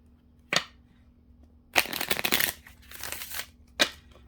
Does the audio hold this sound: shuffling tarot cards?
yes